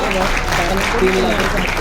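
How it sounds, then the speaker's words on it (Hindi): Audience applause at a Smartvalue company seminar, a steady wash of clapping filling the room while a voice carries over it the whole time. "तो जोरदार तालियां"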